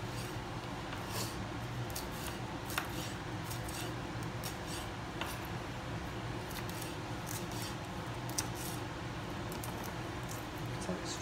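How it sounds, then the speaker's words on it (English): Vegetables being cut into small strips with a knife for savoury rice, a steady run of light, quick chopping ticks over a constant low kitchen hum, with no talking. "Cut them into strips."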